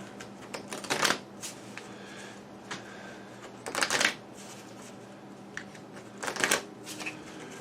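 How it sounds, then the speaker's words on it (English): Cards shuffled by hand in three quick, papery riffle bursts separated by pauses, close up and alone. They are infection discard cards from a Pandemic Legacy board game, riffled back together at the table. "You shuffle them together."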